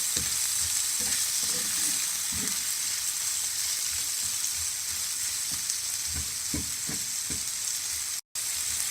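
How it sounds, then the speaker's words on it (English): Chopped onions with salt fry in a pan under a constant loud hiss of sizzling, with soft stirring scrapes and taps scattered throughout and a brief cut to silence near the end. "Let that fry to a little bit of a brown colour."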